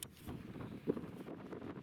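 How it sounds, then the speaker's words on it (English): Steady wind on open Wyoming public land buffeting the microphone, a continuous low rumbling roar with a brief gust in the middle. "I know it's windy."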